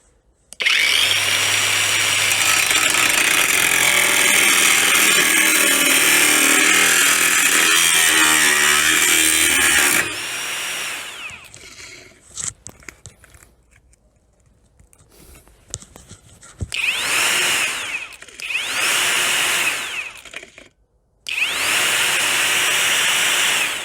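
A Belarusmash BShMA-36 cordless angle grinder screams through 35 mm steel angle with 3 mm walls for several seconds, stops, then starts in a few short whining bursts with pauses between as it malfunctions.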